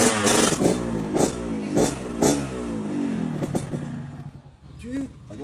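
A motorcycle engine revs in repeated bursts close by, rising and falling in pitch, with people talking over and between the revs.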